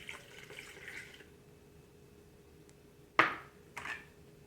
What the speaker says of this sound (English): So we'll throw some warm water on there to 2 cups of that.